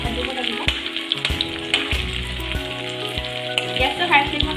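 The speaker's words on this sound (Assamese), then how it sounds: "পিয়াজখিনি গোল্ডেন ব্ৰাউন হোৱালৈকে ভাজিব লাগিব" Onions sizzling in a pan over a high gas flame, a close, continuous crackle with frequent stirring clatter and scraping; a short louder burst of hissing comes near the end.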